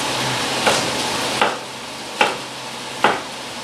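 Celery is chopped for turkey stuffing and mixed in, with four spaced, close knocks of a knife on a board over a steady background hiss.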